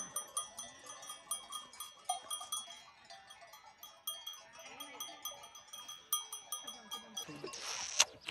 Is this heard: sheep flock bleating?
yes